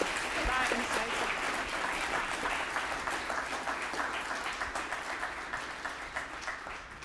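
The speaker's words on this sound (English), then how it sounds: "Can everyone please give a massive round of applause for that insightful?" An audience at a civility award roundtable applauds steadily and fairly loudly, a dense wash of clapping that continues throughout and thins slightly toward the end, with no voices standing out.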